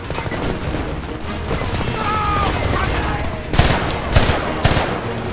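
Bursts of machine gun fire in the shooter game Homefront, rapid rattling volleys over a busy combat backdrop, with a few sharper, louder shots toward the end.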